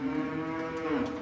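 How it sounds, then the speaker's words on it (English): Angus cattle in a processing facility's chute system give one sustained, low, close moo that carries through the whole moment. "Cattle move into controlled chute systems."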